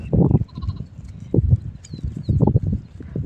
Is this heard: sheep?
yes